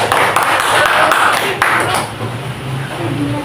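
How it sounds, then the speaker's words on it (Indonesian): A classroom full of students applauding group 1, a burst of dense hand clapping that fades over a few seconds, with voices talking over it. "Kita berikan tepuk tangan untuk kelompok"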